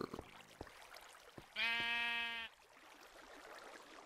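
A single sheep bleats in the Minecraft Agrarian Skies Reloaded modpack, one clear, wavering bleat lasting about a second, surrounded by faint clicking and quiet background.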